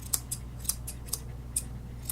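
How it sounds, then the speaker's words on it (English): Curved scissors trimming a Westie's coat, a series of crisp, light snips repeated every fraction of a second, close and clear against quiet background hum. "Use your curved scissors."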